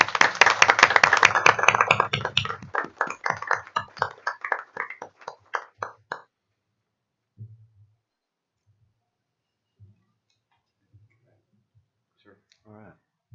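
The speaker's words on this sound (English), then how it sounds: "Please give these folks a round of applause." An audience at a board of education meeting applauds board members; loud, dense clapping tapers off over about six seconds into scattered claps, then near silence with faint low thumps.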